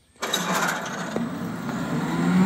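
A brand-new electric motor on a rebuilt C.S. Bell No.20 hammer mill starts with a sudden onset and quickly spools up to a steady, loud whirring hum that holds close and continuous.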